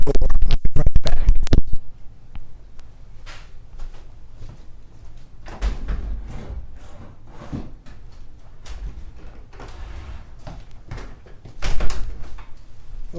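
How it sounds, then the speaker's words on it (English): A door is shut indoors: a loud burst of handling and scraping at the start, then scattered clunks, scratches and footsteps, with another louder thump near the end. "Excuse me, I'm going to shut the door."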